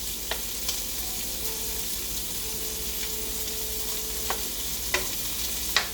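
Shrimp and broccoli sizzle and stir-fry in a pan over lowered heat, a steady crackling hiss broken by a few sharp clinks and scrapes of the utensil against the pan.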